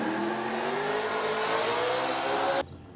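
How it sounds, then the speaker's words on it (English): Formula Drift race car at Long Beach in 2016, its engine revving loudly and steadily with pitch climbing for about two and a half seconds before cutting off abruptly into a quieter background. "Matt Coffman spinning out there"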